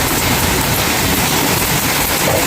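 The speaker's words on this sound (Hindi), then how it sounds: "पता ही नहीं लग पाया कब अचानक बारिश शुरू हो गया।" Sudden heavy rain pouring down outdoors at a home, a dense, loud, continuous wash of noise with no talking.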